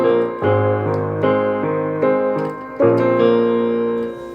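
A piano plays a short interlude from a song, a few sustained chords struck one after another and left to ring, loud and close, with no voices.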